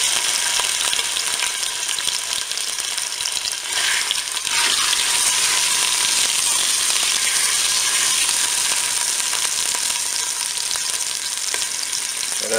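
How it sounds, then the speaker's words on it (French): Pork loin browning in olive oil inside a cooker pot, giving a loud, steady sizzle and crackle that runs unbroken the whole time with no voices. "je vais donc mettre ma longe à faire dorer dans la cuve"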